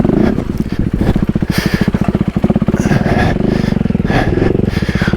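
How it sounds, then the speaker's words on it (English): A Husqvarna 401 motorcycle engine is throttled hard while riding through loose sand off-road, with a loud, close, rapid pulsing engine note that swells under the throttle. "When in doubt, throttle out."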